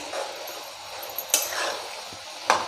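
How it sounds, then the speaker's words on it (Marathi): Grated carrot sautés over high heat while a spatula keeps turning it, a soft sizzle with a couple of sharp scrapes against the pan, close and fairly quiet. "गॅस मोठा करून आपल्याला असं सतत हलवत राहायचं आहे हे बघा सलत उ उलाटण्याने असं परतून घ्यायचं आहे"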